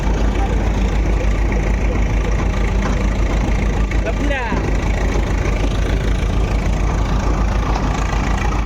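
A tractor engine runs steadily on a farm during rain after a groundnut harvest, a loud continuous low rumble close by with a brief rattle midway.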